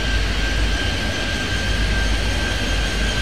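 A jet airliner in the Airport Madness 3D airport game roars down the runway on its takeoff roll, a loud, steady broadband rumble with a thin high whine running through it.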